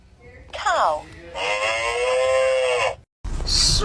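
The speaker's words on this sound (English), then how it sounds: "Cow." A cow lows in a close, loud moo, then a longer sustained bellow, with a short abrupt sound after a brief silence.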